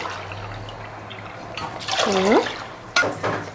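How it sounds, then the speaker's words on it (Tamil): Water splashes into a metal pot of washed rice in short pours, with a clatter of the vessel and a brief second gush; a low hum sits underneath. "அரிசி கழுவி எடுத்தாச்சு. தண்ணி சேர்த்துக்கலாம்."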